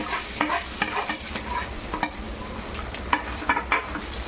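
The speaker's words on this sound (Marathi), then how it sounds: "तूप चांगलं आपलं गरम झालं ते आपण त्यामध्ये आपण जो किसून घेतलेला बटाटा ठेवला होता तो बटाटा त्यामध्ये आपण मी टाकून घेतला" Grated potato fries in hot ghee with a close, crackling sizzle, broken by sharp scraping and stirring knocks from a spoon against the pan, and no voices.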